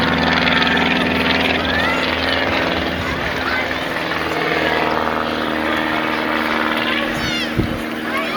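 A loud propeller aircraft drones close overhead at Fort George, Inverness, with a constant buzzing roar that fills the whole stretch, with speech faintly underneath.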